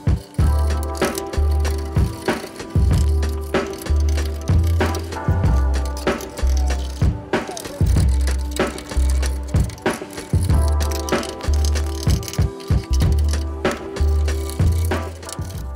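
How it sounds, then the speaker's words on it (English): A tool scrapes grime off the frame cross member of a 1960 Chevy Biscayne during engine bay cleanup. The loud, rasping metal strokes repeat in a steady, rattling rhythm close by. "I'm gonna scrape this cross member in the frame."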